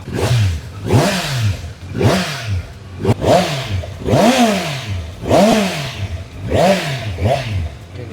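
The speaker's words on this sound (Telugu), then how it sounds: "గేర్ వేయకుండా రవ్విస్తే టైర్ తిరుగుతుంది తెలుసా." A Kawasaki Z900 motorcycle engine revs repeatedly in neutral, with about seven loud, close blips that each rise sharply and fall back in an even rhythm.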